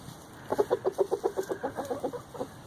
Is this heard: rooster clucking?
yes